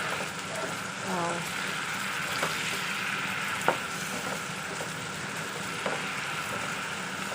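Pork chop adobo frying in its own oil as the broth cooks down, a continuous moderate sizzle with occasional light clicks of stirring, faint speech-like sounds in the background.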